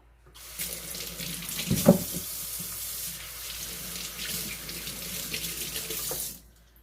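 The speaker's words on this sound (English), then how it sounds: "we'll go ahead and rinse this out" Tap water runs steadily into a sink as salt cod is rinsed, a close, full splashing rush with a brief louder splash near the start before the flow cuts off.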